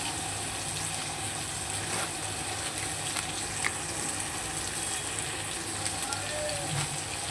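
Potato and eggplant fry in a pan with salt and turmeric, giving a steady, moderately loud sizzle and crackle that carries on without pause throughout, with faint kitchen clatter.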